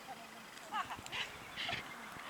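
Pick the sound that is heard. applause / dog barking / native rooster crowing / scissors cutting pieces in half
dog barking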